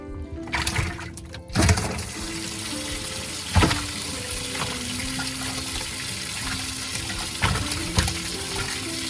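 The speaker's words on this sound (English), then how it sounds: "So just I'll put some water in there for you." Water runs and splashes steadily into a fishing boat's live well holding crappie, a continuous filling gush with a few louder sloshes and knocks, no talking.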